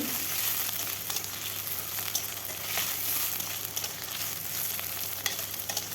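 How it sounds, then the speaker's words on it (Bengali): Steady, close sizzling of potatoes frying in a pan, with occasional light scraping and stirring clicks; no talking. "আলুটাও ভালোভাবে ভেজে নিতে হবে বেশ কিছুক্ষণ সময় ধরে ভাজতে হবে"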